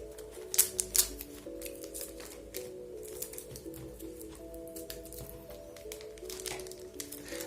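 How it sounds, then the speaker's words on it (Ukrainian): A Beyblade Burst random booster packet being torn open and unwrapped, with crinkling plastic and a couple of sharp crackles near the start, close and fairly quiet over a steady background hum. "Зараз будемо відкривати наш пакетик."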